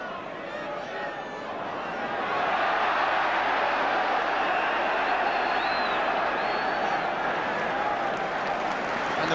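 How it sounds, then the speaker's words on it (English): Large stadium crowd at half-time of a 1977-78 Sunderland v Spurs football match, a broad roar of applause and cheering that swells after two seconds and holds steady, distant and diffuse. "the whistle goes for half-time, and the applause speaks for itself"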